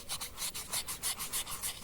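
Alabaster being sanded with 1000-grit sandpaper: close, quiet, rhythmic back-and-forth rubbing strokes, about six to seven soft scratchy passes in quick succession.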